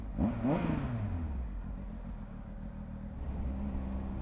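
A Triumph Speed Triple RS motorcycle engine revs up sharply twice near the start, then settles into a deep, steady rumbling idle heard up close and alone.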